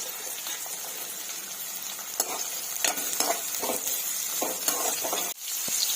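Chopped onions frying in a pan make a continuous close sizzle, broken by repeated scraping stirs of a spoon against the pan's surface.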